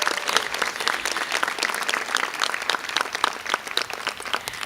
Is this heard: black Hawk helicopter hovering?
no